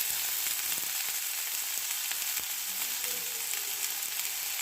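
Chopped ginger hits a little hot oil for chilli soybean, giving a steady, close, dense sizzle and fry that holds without pause, with faint stirring scrapes beneath and no talking.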